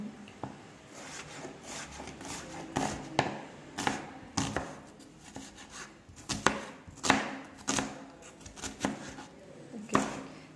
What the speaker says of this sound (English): Can you cut the onion?